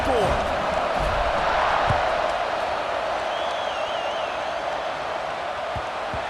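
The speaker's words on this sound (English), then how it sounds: "this crowd is buzzing after that last score" A stadium crowd in EA Sports College Football 26 buzzes steadily after a score, a dense, continuous roar with faint whistles and thumps, heard under a commentator's voice.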